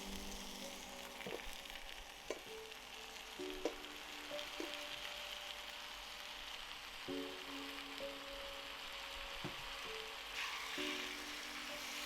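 Tomato chunks frying with onions and garlic in a pan for shakshuka make a faint, continuous sizzle with occasional soft clicks and a low background hum throughout.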